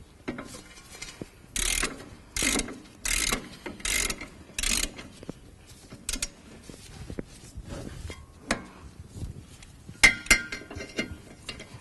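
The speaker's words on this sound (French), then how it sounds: "Maintenant, je termine de serrer avec les cliquets." Ratchets clicking as they finish tightening the front brake caliper bolts on a Smart Fortwo: a run of five even, rhythmic ratcheting bursts, followed by scattered metallic clinks and taps, all close and fairly quiet.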